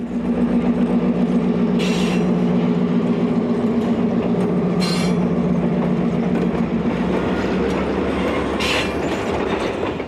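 A train led by covered-wagon diesel locomotives in red and silver paint rolls past on a Midwest line, a loud steady rumble with a low engine drone and repeated clickety-clack of wheels over rail joints.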